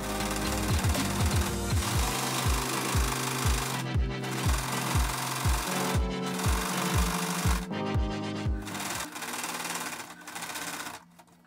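A sewing machine stitching a pants seam forward and back to back-tack it, a loud, close, rapid mechanical chatter in repeated short runs, each with a low thumping pulse, ending in a brief pause and a final burst.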